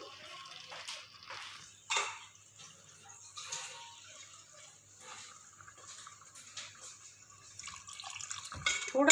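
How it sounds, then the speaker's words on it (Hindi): Water trickles and splashes intermittently into a cooking pot of white beans, with a few louder pours and drips against a quiet background. "अब हम इसमें ऐड करेंगे थोड़ा सा पानी"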